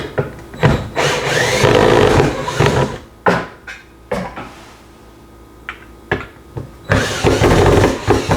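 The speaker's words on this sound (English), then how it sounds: "It's really handy to have about a 12 to 16 inch Phillips extension on a drill, and that will help you spin those screws right out." Several bursts from a power drill fitted with a long Phillips extension, spinning screws out of a kitchen sink mount, whirring in short runs separated by pauses and clunks.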